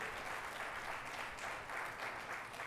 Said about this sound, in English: Let's give a big round of applause for Chef Jeff